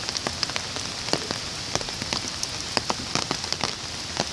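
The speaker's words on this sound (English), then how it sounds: "because the rain came." Rain falls on a garden in a steady wash of fine patter, broken by frequent sharp drips and splats up close, continuous and fairly loud with no voices.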